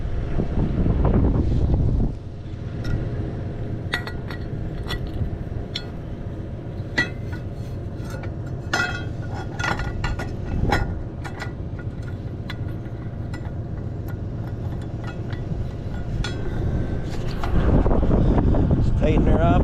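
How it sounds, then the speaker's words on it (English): Strong wind buffets the microphone outdoors throughout, rising loudest at the start and end, with rumbling gusts and scattered clicks and knocks from nearby work. "It's windy out."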